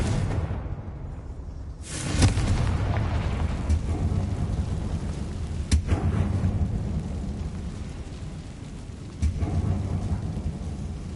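A Confringo fire spell exploding inside a mine in Hogwarts Legacy: a loud rumbling, thunder-like blast surging up at once, then a sustained roar with further booming bursts, no voices.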